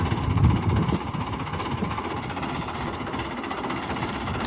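A steady, loud mechanical drone of a tractor-driven threshing machine threshing chickpeas, running continuously, with low rumbling engine tones and constant grinding noise throughout.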